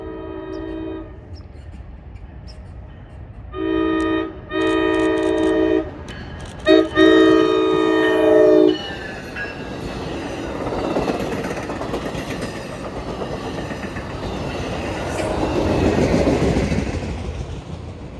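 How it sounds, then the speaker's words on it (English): NJ Transit train passing a trackside spot in Saddle Brook, New Jersey, sounding several long and short horn blasts that grow louder, then a rising rumble and rush of the train going by near and loud. "The first train to pass us here in Saddlebrook is NJ Transit train number 1856, on its way from Waldwick to Hoboken."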